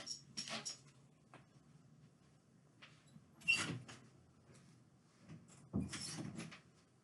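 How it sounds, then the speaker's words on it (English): A dog being let out through a door at home: scraping and sliding door noises in three bursts with faint jingling, a short whimper between them, fairly quiet and close with no talking. "I was letting the dog out."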